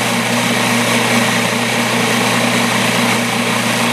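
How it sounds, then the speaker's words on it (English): A food processor mixes pasta dough for homemade spinach tortellini, its motor whirring in a loud, steady drone that runs unbroken from start to finish, with no voices. "A food processor is a much better idea."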